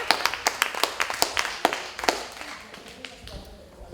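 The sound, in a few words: audience applause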